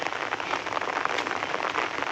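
Rain falls steadily during a storm, a dense, even patter across a surface, with no voices present.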